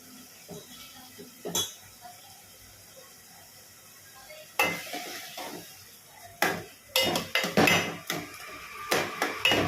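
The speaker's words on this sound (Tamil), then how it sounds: "நான் வந்து சுண்டக்காய் வறுத்துட்ருக்கேன்." Metal clinks and scrapes of a spoon stirring turkey berries frying in a pan over a soft sizzle, with sharper clatters growing busier toward the end.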